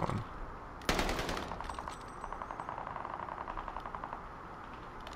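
STG assault rifle firing in Call of Duty: Vanguard, a sharp shot followed by a rapid, even stream of automatic rounds that runs on under game noise.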